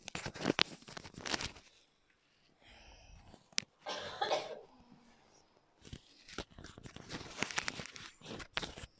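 Several close, harsh coughs in two bursts during a religious lecture, separated by a quieter stretch of rustling and shuffling.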